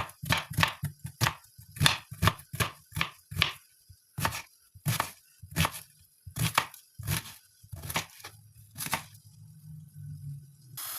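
Onion is chopped finely with a knife in rapid close strokes, a fast crisp rhythm of blade-on-board knocks for about nine seconds that then stops, leaving a quiet low hum.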